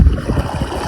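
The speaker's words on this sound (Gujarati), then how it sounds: "તમને બતાવું પાણી ક્યાંથી આવે. જો પાણી કેવું કાઢે," Water gushes from a tractor-driven irrigation pipe on a village farm in a loud, close, turbulent churning rush lasting under a second.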